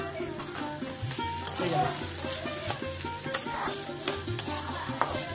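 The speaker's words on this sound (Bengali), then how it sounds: "আমরা একটু এটাকে ভালো করে একটু নেড়ে দিলে আমাদের পিঠের পুর রেডি" A spoon stirs a spiced cauliflower filling for bhapa pitha as it sizzles and fries in a pan, with steady scraping and clinks up close and a brief bit of speech over it.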